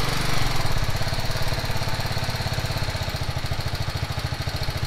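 A BMW G310 motorcycle single-cylinder engine with a modified exhaust idles steadily, a fast even throbbing pulse recorded from a few paces back, loud and continuous with no voices.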